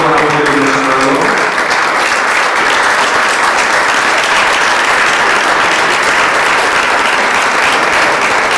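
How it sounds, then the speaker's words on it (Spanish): Applause from the audience at a Spanish-language arts conference round-table, loud sustained clapping from a crowd that fills the whole stretch evenly after a brief trailing voice at the start. "Y un aplauso para la compañera Paloma por toda la voz que nos ha dado."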